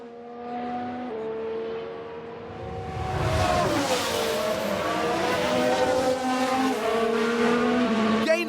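A 1994 Ferrari Formula One car racing in a replay in the video game F1 Manager 22, its high-pitched engine whining steadily, then roaring louder as it passes close with shifting pitch.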